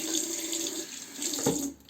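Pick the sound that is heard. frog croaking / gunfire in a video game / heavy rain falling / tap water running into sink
tap water running into sink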